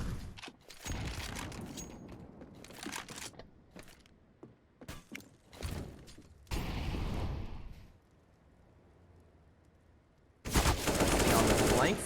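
AK-47 fire in the game CS:GO comes in sharp bursts and single cracks with mechanical clicks between them, loud and close, and a long sustained burst ends the stretch.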